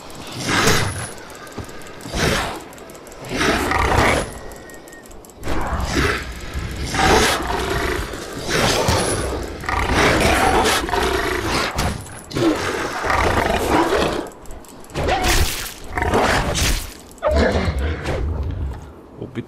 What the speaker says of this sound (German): Und die Wölfe, die gerade geschrien haben.